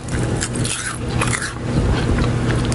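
Close, crisp crunching from bites into brittle kale chips, with a steady run of crackly chewing noises and no talking.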